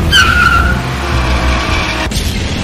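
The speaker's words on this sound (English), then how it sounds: "Let's crash into Giselle's car first." Cartoon car skids with a long tire squeal and a rumbling engine, ending in a brief thump of one car ramming another; loud and close, no talk.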